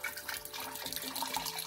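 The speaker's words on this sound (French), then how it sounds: "on va remplir donc de l'eau" Spring water is poured to fill a container for making water kefir, giving a soft, close, continuous splashing trickle at low volume.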